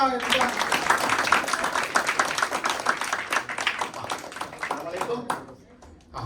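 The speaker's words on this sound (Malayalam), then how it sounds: "കൈയടിക്കടാ." Children and parents clapping at a quiz event, a dense burst of applause that runs for several seconds and then thins out and fades.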